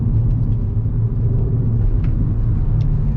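Inside a 2022 Hyundai i20 N, a steady low engine rumble with electronic sound enhancement drones under the cabin, constant and close, with faint tonal layers riding over it and no talk.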